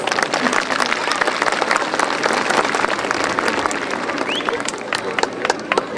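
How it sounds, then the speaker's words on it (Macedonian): An audience applauds steadily at a masquerade ball in Probištip, a dense wash of clapping from many hands that holds at full strength throughout. "Може ли сами за себе еден аплауз?"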